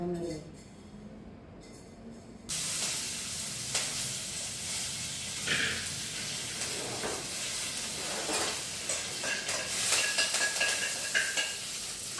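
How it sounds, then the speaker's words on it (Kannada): Steady sizzling of spices in hot oil starts abruptly and continues, with occasional clinks and scrapes of a spoon against the pan. "ಇನ್ನು ಒಗ್ಗರಣೆ ಕೊಟ್ಟರೆ ಆಯಿತು"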